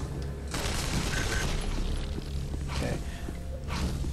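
Rapid bursts of gunfire from the video game MorphX, a dense crackling volley running almost continuously with a couple of sharper swells, loud and steady under a busy game soundscape.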